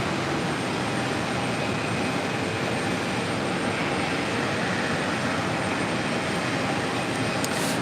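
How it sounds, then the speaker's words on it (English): An Airbus A330 jet airliner at JFK, heading for Rome from the south side, gives a steady, loud broadband engine roar that holds evenly throughout with no break. "Heading to Rome, A330 on the south side."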